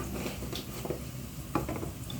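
Onions with turmeric and other powdered spices sizzling in a pan, a steady near fry with a few soft stirring scrapes and light clinks of a utensil against the pan.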